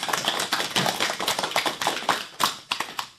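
Audience clapping after a performance by schoolgirls at a school event, uneven bursts of applause that swell and thin out with some individual sharp claps standing out, fairly close and loud.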